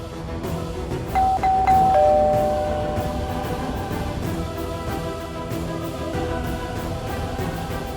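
A doorbell rings in a house with a couple of quick bright chimes over background music, followed by a lingering ding-dong tone that fades.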